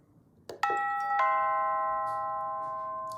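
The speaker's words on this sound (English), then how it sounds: "And then, of course, I can ring the doorbell." A Logitech Circle View doorbell ringing indoors, a clear two-note ding-dong chime whose tones ring on and slowly decay, with faint room noise around it.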